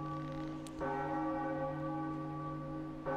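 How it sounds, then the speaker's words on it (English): A large bell at the top of a tower in Zelda: The Wind Waker HD strikes twice, each sustained ringing tone swelling and holding with a rich, lingering hum. "ringing the bell at the top of the tower"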